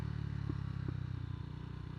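Motorcycle engine braking through a downshift, a steady close low engine drone with rhythmic pulsing and a couple of brief clunks as gears change, held throughout.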